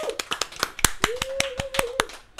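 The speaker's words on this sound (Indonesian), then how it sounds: "Tepuk tangan dulu." A short burst of hand clapping during an Indonesian classroom-themed talk, with sharp irregular claps from a few people and a sustained tone or voice running underneath partway through.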